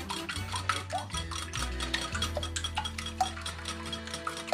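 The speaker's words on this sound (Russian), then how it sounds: "Так, яйца вот так взбиваем" Two eggs being beaten by hand in a bowl for Lithuanian kugelis, a quick run of light ticking taps from the whisk, with a low steady hum underneath.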